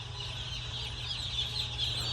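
Inside a large poultry house holding around 240,000 baby chickens, a dense, continuous chorus of high peeping fills the air over a low steady ventilation hum, with no voices.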